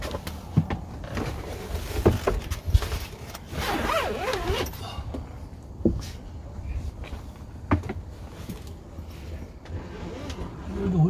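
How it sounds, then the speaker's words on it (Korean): A zipper on a Pleasure-Way camper van is pulled shut in several rasping strokes, mixed with rustling and handling knocks close to the listener. Faint voices and outdoor background noise sit underneath. "내릴 때는 이거 지퍼로 잠가줘야 돼."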